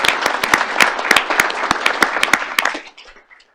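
Audience applause at a federal energy commission's open meeting, a burst of sharp hand claps from a modest group that thins and fades out over a few seconds.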